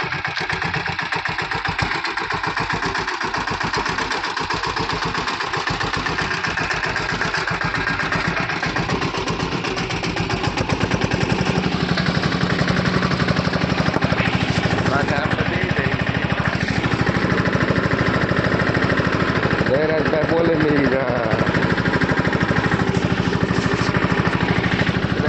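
Sanedo, a small four-wheel farm vehicle, plowing a chickpea field: a steady, close engine chugging with a rapid knocking pulse that grows louder and fuller midway, with faint talk under it.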